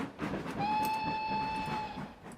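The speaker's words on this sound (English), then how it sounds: "You heard the whistle." The Flying Scotsman 1920s steam locomotive in the Trainz: A New Era train simulator gives a steady, clear whistle of about a second and a half over a running background of rail rumble and clatter.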